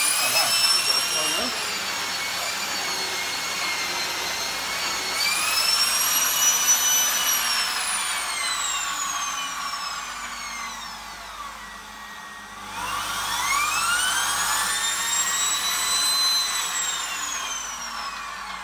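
A vacuum cleaner fitted with a turbo brush runs continuously with a slightly rattly whine that rises and falls in pitch as it is pushed, and a voice talks faintly alongside.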